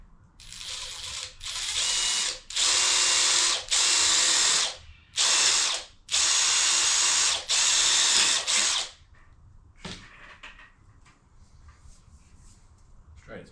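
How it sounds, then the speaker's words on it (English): Power drill boring a bolt hole through a fold-down table bracket for a Ranger, loud close whine in about six sustained bursts with short gaps, then stopping into quiet room tone. "I'm just going to be drilling a hole in it for a bolt to go through."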